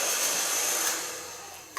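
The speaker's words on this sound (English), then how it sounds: "So far blow drying." Hair dryer blowing steadily on long hair during a cut and color session, a continuous broadband whoosh that fades slightly before a brief louder burst at the end.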